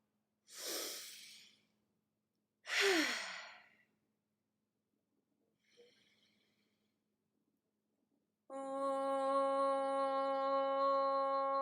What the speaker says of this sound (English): First, a cleansing breath.